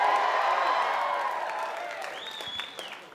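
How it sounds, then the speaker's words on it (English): A comedy club audience at a live stand-up show cheers, whoops and applauds loudly, the roar slowly fading over about three seconds while one shrill whistle rises near the end. "Listen to this crowd."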